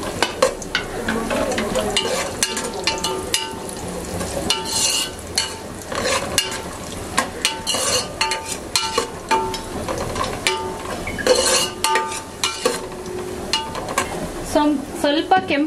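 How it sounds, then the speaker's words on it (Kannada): Cashews fry in a pan for sheer kurma until reddish, a crackling sizzle broken by frequent clattering scrapes of a utensil stirring them, close and busy throughout. "ಸ್ವಲ್ಪ ಕೆಂಪಗಾಗೋವರೆಗೂ ಫ್ರೈ ಮಾಡ್ತಾ ಇರಿ."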